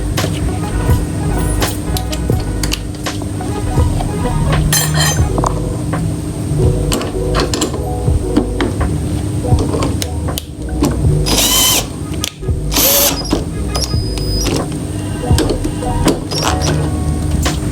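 A power tool tightens the bolts of a slip-on exhaust on a Honda CBR 250RR, a loud whirring drill-like buzz in repeated bursts with clanks and rattles, close by in a workshop.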